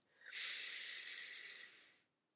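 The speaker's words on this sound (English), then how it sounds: "Take a deep breath in." A single deep inhalation drawn in through the nose during a guided breathing exercise, a steady airy rush lasting nearly two seconds, close and fairly soft, with no voices.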